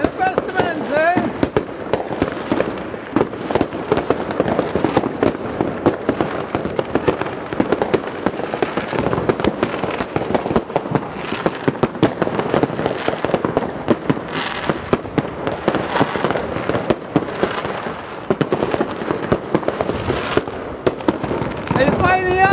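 New Year fireworks in Lopik crackle and boom almost nonstop, a dense wall of rapid explosions and firecracker pops, with a voice talking intermittently beneath the noise.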